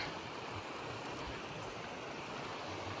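Steady broadband rushing water of a mountain creek flowing over rocks in South Kananaskis, continuous and fairly close, with no voices.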